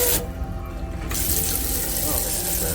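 Water runs into a restroom sink aboard an Amtrak overnight coach train, a steady close hiss and splash under continuous train rumble, with a voice speaking briefly.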